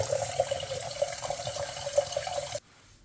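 Tap water runs steadily into a sink, washing ants down the drain with a close gushing rush that stops abruptly near the end.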